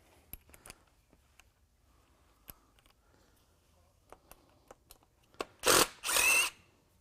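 A power drill backs Tapcon masonry screws out of concrete, preceded by faint scattered clicks and then two short, loud whirring bursts close by.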